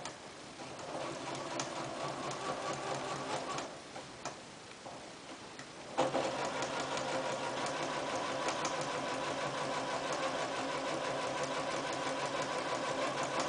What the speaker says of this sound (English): So I'm just going to stitch all up and down this.